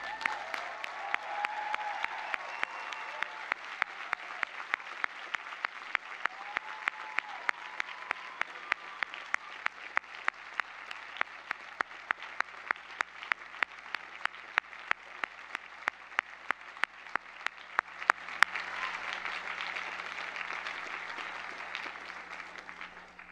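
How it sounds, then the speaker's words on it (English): An audience applauding at the Reed College class of 2014 commencement, sustained distant crowd applause with sharp individual claps standing out, fading slightly near the end. "why don't we give them all a round of applause?"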